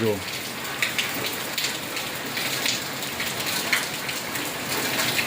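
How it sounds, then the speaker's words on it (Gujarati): Steady rain patters and hisses close by, with scattered heavier drops and splashes throughout. "જો પાછો વરસાદ આવ્યો અત્યારે વધ્યો છે"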